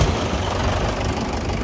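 Loud, close diesel engine of a Mahindra 575 DI XP Plus tractor running at a steady, knocking idle, continuous throughout with no talk.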